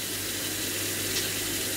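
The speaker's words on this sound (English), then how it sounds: "obviously some cold water is going in initially" Cold water runs from a tap into a sous vide container in a steady, close, unbroken rush.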